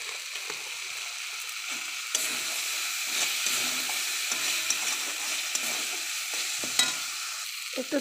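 A potato curry with shahi garam masala sizzling in a pan while being stirred, a steady close frying hiss broken by repeated scraping strokes of the spoon, with no talk.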